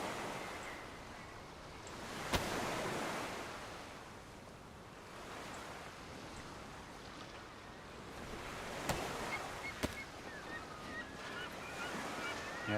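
Ocean waves wash steadily along a cold northern shoreline in the survival game DayZ Frostline, with seagull cries and honking calls scattered over the surf and a few sharp knocks. No one speaks.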